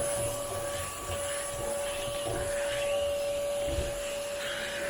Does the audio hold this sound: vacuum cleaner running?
yes